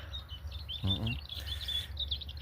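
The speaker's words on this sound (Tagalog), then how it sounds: "may mga ibon na lumilipad, oh" Birds call and chirp on an open farm field with broad-leaved crops, a steady string of faint high twittering notes over a low hum of wind or background noise, with a brief murmur of voice in the middle.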